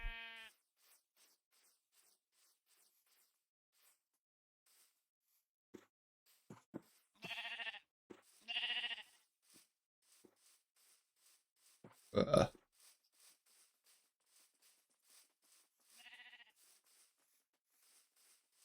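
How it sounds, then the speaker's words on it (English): Sheep in the Minecraft video game bleat in a few short, separate cries, with scattered quiet game clicks and sounds between them and long near-silent gaps. "So many flowers. Black sheep."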